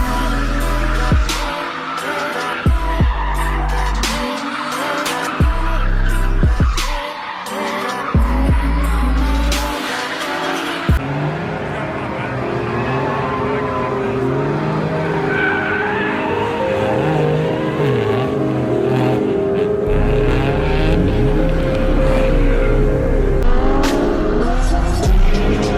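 An Infiniti G35 with a 3.5-liter V6 drifts, engine revving hard while tires squeal and skid in long, wavering screeches, loud and close, with engine roar continuing throughout.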